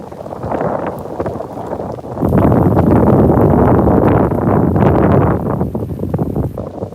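Loud, roaring wind buffets the microphone at night in Tokyo in the rain, a dense rumbling gust that swells sharply after two seconds and stays strong to the end.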